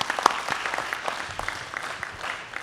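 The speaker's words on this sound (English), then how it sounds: "Round of applause." A conference audience gives a short round of applause after a presentation on procurement efficiency, with scattered claps heard indoors and no speech.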